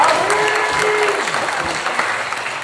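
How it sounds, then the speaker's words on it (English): An audience at a conference gives a short burst of steady applause, a dense wash of clapping from a roomful of people without a break. "can we get a big round of applause for Colleen and her team for putting that together"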